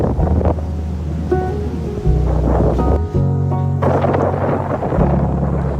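Strong wind and heavy Atlantic Ocean surf on a US beach roar loudly and continuously, with gusty buffeting against the microphone and some steady tonal sounds layered on top.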